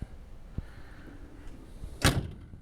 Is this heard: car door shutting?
yes